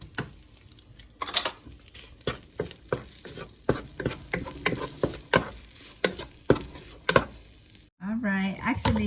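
A spoon stirs garlic through tomato rice in a pan, giving repeated scraping and clinking strokes over a light sizzle, close and rhythmic, followed by a brief burst of speech at the end.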